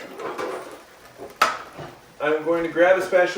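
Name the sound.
grabbing a spatula in the kitchen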